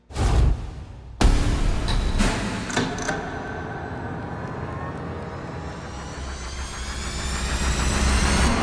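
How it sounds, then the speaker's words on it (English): Long-rod V8 engine with 6.800-inch connecting rods fires up on a dyno, with a sharp cranking burst and a catch before it settles into a steady, loud idle that slowly builds toward the end. "fire it up and let's do it."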